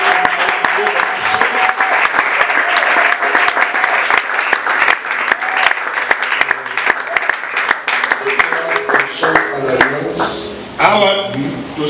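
A church congregation claps and cheers loudly and continuously, with sharp individual claps and voices rising through the crowd noise throughout.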